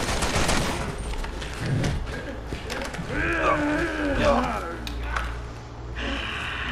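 ACR assault rifle firing in Resident Evil 6: rapid gunfire at the start, then scattered shots and game effects underneath people talking.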